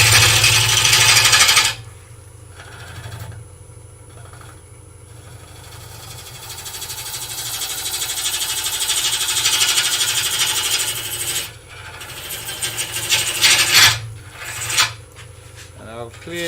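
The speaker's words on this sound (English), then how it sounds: "I'm just twisting my gouge over and twisting myself away from the lathe to get a funnel at the other end" A gouge cutting wood on a woodturning lathe, a loud scraping rasp that fades in and out in bursts with brief pauses as the tool is lifted and reapplied.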